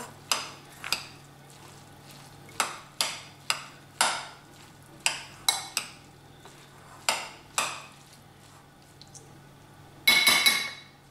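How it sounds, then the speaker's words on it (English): A spoon stirs cooled, flaked fish into rice in a pan for kedgeree, giving a dozen or so sharp metallic clinks at an uneven pace, ending in a brief louder clattering scrape. "now all I'm going to do is add that to the rice and give that a stir as well"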